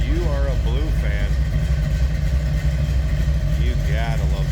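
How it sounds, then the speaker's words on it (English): A deep, throaty engine in a 1986 Chevrolet C10 Stepside street rod pickup idles with a steady low rumble while someone talks over it. "There's a little rumble coming out of that one."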